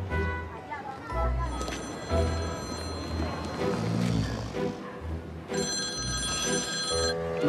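A telephone ringing unanswered in a Dominican comedy film, its repeated rings heard under background music and voices, moderately loud throughout.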